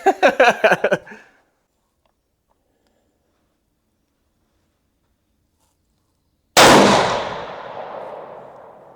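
A single loud rifle shot from a Ruger Gen 2 in 7PRC cracks out sharply near the end and rings off in a long decaying echo, after a short burst of talk and a long silence.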